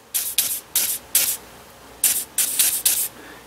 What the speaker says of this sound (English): So anyway, spray some Seafoam on.